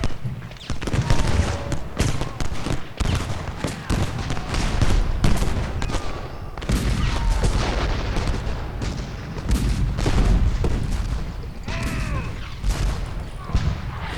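Dense, continuous rumble of booming cannon fire and crackling gunfire in the video game Ultimate General: Gettysburg, heavy and overlapping throughout with no pauses.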